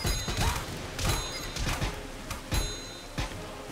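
Enemy units shoot in the turn-based game Pit People, giving several quick thumping shots and impacts at a loose rhythm, moderately loud, with no talk over them.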